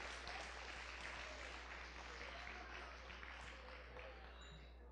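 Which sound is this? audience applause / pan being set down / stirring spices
audience applause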